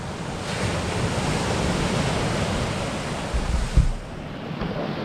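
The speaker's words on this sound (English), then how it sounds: "Nice rough sea." Rough sea waves breaking on the shore at Lilstock on New Year's Eve, a continuous loud surging roar with a heavier crash near the end, mixed with wind buffeting, no voices.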